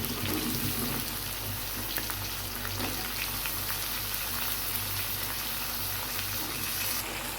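Eggplant, potato and other vegetables fry in a pan of oil for a hilsa fish curry, a soft, even sizzle that holds steady for several seconds with no talking.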